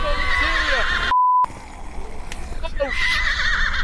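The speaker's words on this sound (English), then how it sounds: "But why is there neighing?" A horse in the horror video game Sign of Silence gives a loud, quavering whinny, then a brief electronic tone, a short silent gap and softer game ambience with faint later cries.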